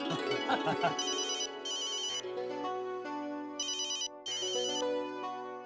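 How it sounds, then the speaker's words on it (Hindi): A phone rings with a bright, repeating electronic melody in short bursts, clear and close, with a voice briefly heard at the start. "जेठा का फोन है।"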